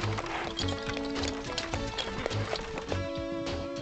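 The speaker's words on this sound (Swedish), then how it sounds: "Häst och vagn." A horse pulling a carriage clip-clops along in a steady walking rhythm, hooves clear and close, layered over animated-cartoon background music.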